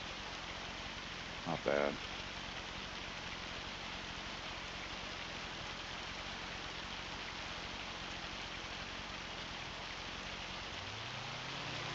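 Steady rain falls in a farming video game, a constant even hiss that runs through the whole stretch, with a brief spoken remark near the start.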